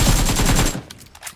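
Rapid automatic gunfire from the battle-royale game PUBG on the Livik map, a loud dense burst for most of the moment that cuts off abruptly, followed by a few fainter scattered shots.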